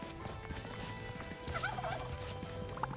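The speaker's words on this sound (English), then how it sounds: "I don't want to kill these turkeys" Turkeys in a video game give brief, quiet, warbling gobbles over a steady low background hum. A second short gobble comes near the end.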